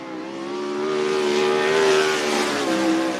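A race car lapping Cottage Grove Speedway, its engine note swelling to a loud, sustained high-pitched roar and easing slightly near the end, heard alone without commentary.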